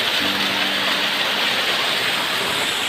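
A waterfall at a cave entrance roars as dense, continuous rushing water, loud and close throughout, with no voices heard.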